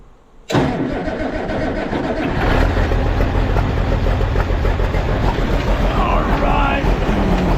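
An Allis-Chalmers D17 diesel tractor engine starts up after a brief pause, then runs steadily with a loud, close, rough rumble and mechanical clatter.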